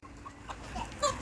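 Chickens cluck nearby in short, scattered calls, with one louder squawk near the end.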